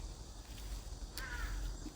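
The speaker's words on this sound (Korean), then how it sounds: "지금 막 까마귀 소리도 들리고 새 소리도 들리고" A crow caws once, clearly, midway through the clip, set against steady outdoor ambience just after a brief rain shower. No one speaks.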